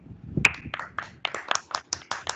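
Hand claps ring out at a school assembly on Hindi Diwas: a few crisp, separate claps fall in a loose, quick rhythm, close and moderately loud, sounding more like a small group than a full crowd.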